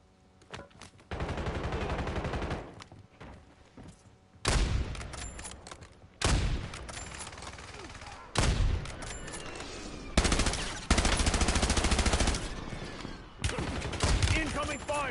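Video game gunfire rattles in loud automatic bursts that start and stop abruptly, several long volleys cutting over one another with brief pauses between them.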